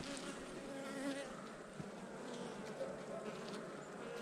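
Honey bees hum steadily in and around an open hive, a dense, continuous buzzing swarm close to the listener, with faint handling noises underneath.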